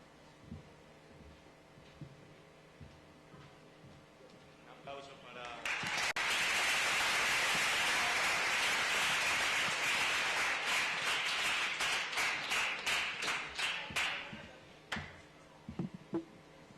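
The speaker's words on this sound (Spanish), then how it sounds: "Un aplauso" An audience at a talk bursts into applause for a student's portrait, a dense wash of clapping lasting about eight seconds before tapering off into scattered claps, with quiet room sounds and murmurs before and after.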